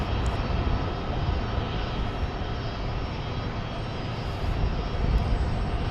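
Steady, loud roar of old airliner engines at Minneapolis–St. Paul airport, a broad continuous rumble that stays even throughout, with no voices.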